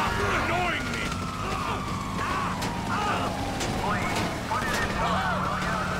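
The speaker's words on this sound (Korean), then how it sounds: "자 경찰차 나간다 비켜라." A wailing police siren in GTA 5 sweeps up and down repeatedly over game engine noise and occasional thuds, loud and continuous throughout.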